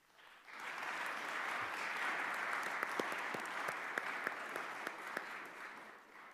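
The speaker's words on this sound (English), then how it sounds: "give a round of applause to these incredibly courageous students" An audience at a House Education Committee roundtable applauds courageous students, a steady, moderately distant wash of clapping with a few sharper nearby claps, rising quickly and holding for several seconds.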